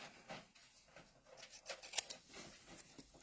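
Long-bladed scissors snip through paper while a star-topped gift box is made, giving a quiet series of crisp, irregular cuts and rustles close by, with no talk.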